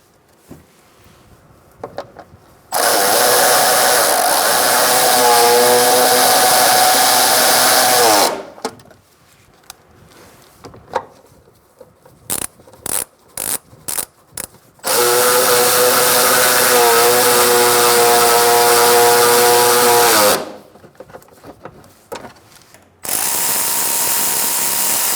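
A power tool drives bolts into the engine splash shield of a 2004-2009 Mazda 3, heard as loud, close, sustained whirring bursts of several seconds each, separated by quieter gaps of short clicks and handling noises.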